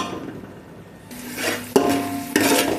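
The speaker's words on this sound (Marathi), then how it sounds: "हलवून घ्यायचं आहे सगळं. 2 ते 3 मिनटं हलवून घ्यायचं आहे." Crab masala is being stirred in a pan, with a soft sizzle followed by two sharp metallic scrapes of a spoon against the pan, close up.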